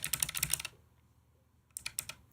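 Two bursts of rapid typing on a computer keyboard that is plugged in with its lights on, close and fairly crisp, separated by about a second of near silence.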